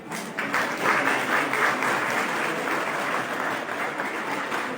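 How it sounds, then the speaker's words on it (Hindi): Sustained crowd applause at a Kendriya Vidyalaya school annual function in Reckong Peo, Kinnaur, steady and dense throughout as students are honoured, with no speech over it. "तालियां बजाइए, आपके बच्चे हैं।"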